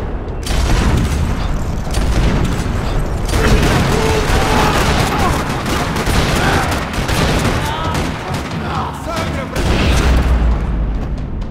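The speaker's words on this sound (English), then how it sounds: "Another parking lot rattling with gunfire." Video-game gunfire rattles across a parking lot: dense, continuous bursts of shots and booms, loud and close, with mechanical clatter mixed in throughout.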